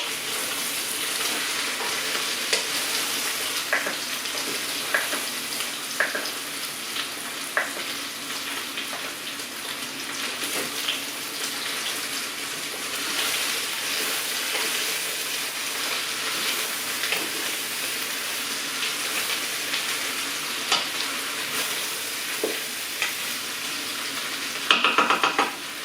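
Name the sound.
stirring tartiflette in a frying pan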